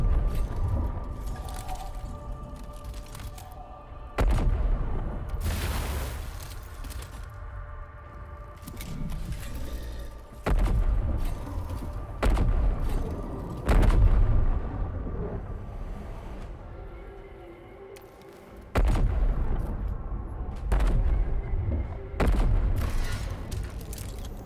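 Battle in Warhammer 40,000: Mechanicus 2 as an Electro Priest is shot at: a string of heavy booming shots and blasts at irregular intervals over a rumbling backdrop.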